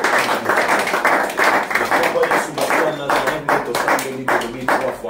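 A church congregation claps and cheers in praise, a dense, loud stretch of clapping with voices rising over it throughout.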